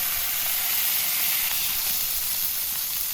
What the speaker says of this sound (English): That sizzling sound makes me fire up that griddle again right now.